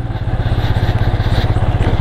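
A motorcycle ridden along a rough road in Mizoram, its engine close and loud with a steady, pulsing low throb and a faint clatter over it.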